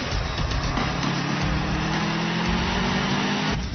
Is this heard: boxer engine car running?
yes